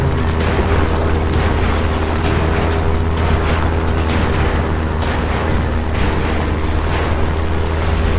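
A TV-show sound effect of a short circuit in a solar panel with a broken wire: a continuous loud electrical rumble with crackling bursts, steady throughout.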